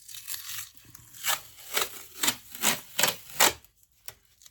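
Cardboard-packing tape from a roll is pulled out and ripped in a quick series of about seven rasping bursts, close and fairly quiet, with short pauses between pulls.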